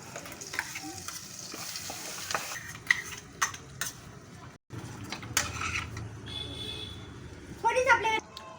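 Ground masala and Kolhapuri chutney frying in oil, a steady close sizzle with stirring scrapes and clinks of a spoon in the pan, a voice talking over it and brief utensil taps near the end.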